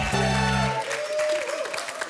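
A studio audience on a French TV show applauds a couple, producing a short burst of clapping that follows a musical sting and continues under the host's voice.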